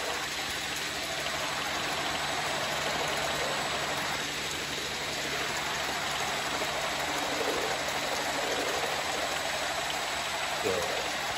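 A 10-inch spiral conveyor climbing from 8 to 14 feet runs with a steady, even whooshing drone that fills the space without a break, and no one speaks.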